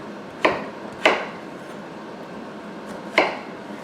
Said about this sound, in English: Let's get to cutting this guy up now.